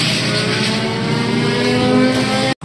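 A Honda Civic EF race car engine revving hard and close by, a loud, raspy, sustained roar that holds steady before cutting off abruptly.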